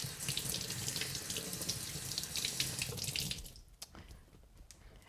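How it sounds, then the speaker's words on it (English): A vegetable is rinsed under a running kitchen tap, with steady water splashing into the sink for several seconds before the flow is cut, leaving a few faint drips. "So you just want to come in here, wash this very well."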